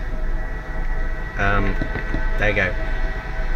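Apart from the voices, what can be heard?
train going by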